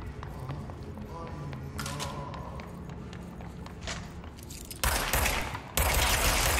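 Service Weapon gunfire in the video game Control: scattered sharp shots and thuds, then two loud, dense bursts of firing close up near the end.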